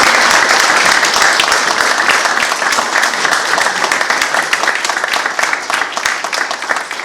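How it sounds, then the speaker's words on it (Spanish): Conference audience at a veterinary lecture breaks into sustained, dense applause, loud and steady throughout with no talk over it. "Les pedimos con un fuerte aplauso."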